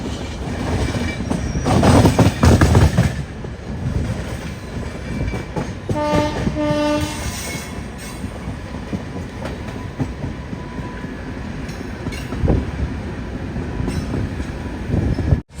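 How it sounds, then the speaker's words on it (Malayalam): Patna Express pulling into Katpadi Junction railway station, a loud steady rumble of wheels and carriages with a brief squeal and horn-like tones partway through, continuing without voices. "കാട്ട്പാടി ജംഗ്ഷൻ റെയിൽവേ സ്റ്റേഷനിലേക്ക് ഇതാ നമ്മുടെ ട്രെയിൻ എത്തിക്കൊണ്ടിരിക്കുക"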